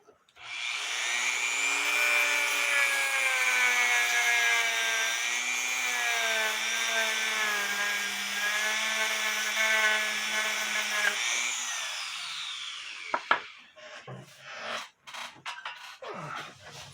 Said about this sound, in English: I'm going to clean it off with my Dremel